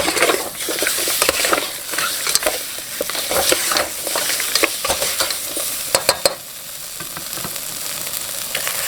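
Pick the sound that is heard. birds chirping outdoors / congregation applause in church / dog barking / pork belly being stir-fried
pork belly being stir-fried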